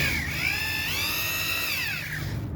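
A power drill whines steadily at close range, its pitch dipping and rising as it bores into a concrete sidewalk.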